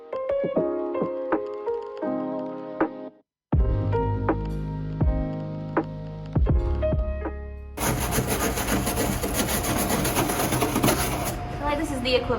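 A 20-year-old Jeep Wrangler's paint is sanded off by hand, heard as steady, dense, scratchy rubbing during the last several seconds, after a stretch of plucked, tonal music-like sound.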